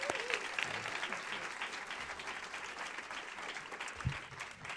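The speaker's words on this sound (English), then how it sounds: "So please give them a round of applause as well." An audience at an education talks event gives a steady round of applause, a continuous dense wash of clapping heard from within the room, with a few low thumps along the way.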